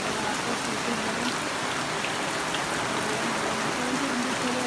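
Steady rain falls on a late-August day, making an even, continuous hiss of drops on surfaces with no voices.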